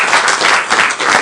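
Audience applause at a San Francisco mayoral bill-signing event for Treasure Island housing legislation, steady dense clapping from a crowd sustained throughout at fairly loud level.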